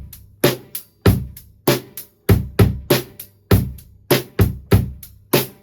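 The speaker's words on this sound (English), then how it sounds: "just doing 2 different beats back to back to create a 2-bar phrase." A drum kit plays a two-bar beat phrase, with a steady groove of kick and snare hits under constant cymbal wash, close and loud with sharp, evenly repeating accents.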